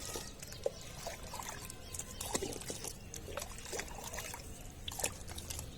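Water trickles and splashes quietly as it is poured out of a lotus pot during repotting, a soft continuous flow with small irregular drips and gurgles.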